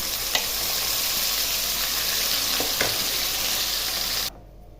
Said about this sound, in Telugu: ఇప్పుడు మిక్సీ పట్టేసుకున్న చట్నీని కూడా ఇందులో వేసేస్తున్నాం